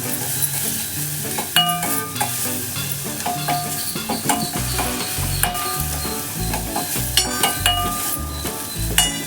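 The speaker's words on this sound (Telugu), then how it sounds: "కొంచెం వేగిన తర్వాత అల్లం వెల్లుల్లి పేస్ట్ వేసేసుకోండి." Ginger-garlic paste frying in oil in a pan for an okra and egg curry, a loud continuous sizzle with spoon clinks and stirring scrapes, over background music.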